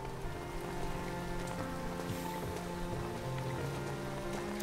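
Rain in the game 13 Sentinels: Aegis Rim patters steadily on surfaces, a dense even wash of drops with some soft musical tones underneath.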